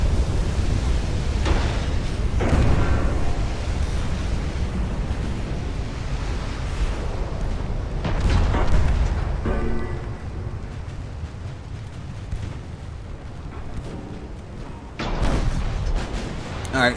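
A battleship in Ultimate Admiral: Dreadnoughts suffers explosions and an ammunition cook-off, heard as repeated heavy rumbling blasts rising over a steady roar like surf and wind, several separate swells across the stretch.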